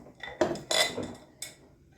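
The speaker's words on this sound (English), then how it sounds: "But I figured I'd just get out my 8x8 since we just got done using the iron skillet." An 8x8 baking pan pulled out from among stacked dishes in a kitchen, several sharp metallic clanks and clatters in quick succession, close and fairly loud.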